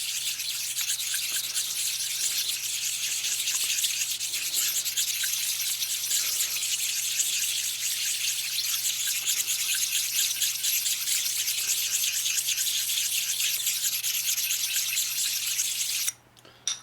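Steady abrasive sanding as a Harley knucklehead engine's gasket surface is rubbed flat on a sanding surface, a continuous close scratchy rasp that runs without break until it stops abruptly near the end.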